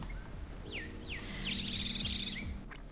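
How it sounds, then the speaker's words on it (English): Birds tweet in the Star Stable video game, giving several quick descending chirps and a brief warbling trill. The calls are faint and sit over a low hum of ambient game sound. "the birds have made such a tweety noise"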